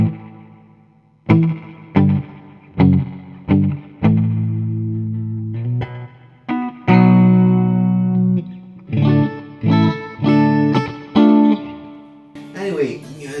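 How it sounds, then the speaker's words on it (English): Electric guitar played through a digital reverb pedal with a spring-like character, sharp plucked chords and single notes each trailing into a wet, splashy decay, with some spoken voice nearby. "it's a digital reverb,"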